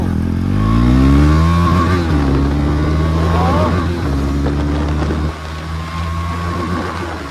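A KTM Duke 390 motorcycle engine runs loud and close, its pitch climbing as it revs and then settling back to a steady idle, with brief dips between revs.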